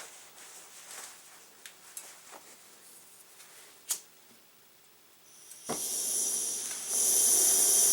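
A Kovea Lindal camping stove running on a butane fuel canister, with a few small clicks and taps before the gas comes on as a loud steady hiss that rises further near the end, close by.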